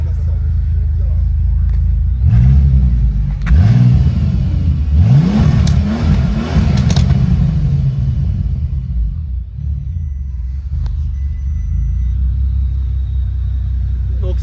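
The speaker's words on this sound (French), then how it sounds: "Vous allez entendre le bruit du W12." A Bentley Continental GT Supersport's W12 engine revs from a steady low idle rumble, with two or three deep, muffled throttle blips before settling back to idle; a person talks briefly.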